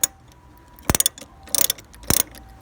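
A ratchet wrench working a strut mount bolt on a 2021 Toyota 86: a few short, sharp bursts of rapid clicking separated by quiet gaps, close and moderately loud.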